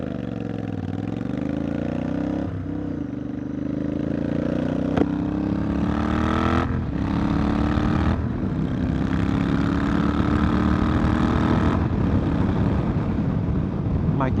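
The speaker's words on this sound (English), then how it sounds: "Let's do another exhaust check." A Royal Enfield GT650 motorcycle's exhaust drones steadily while riding, its engine note rising and falling as it shifts through revs, mixed with heavy wind rush.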